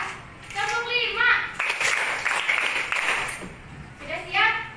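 A class of children play a counting clapping game, their high voices chanting together over a run of quick, sharp, close hand claps in a clustered burst, then more chanting.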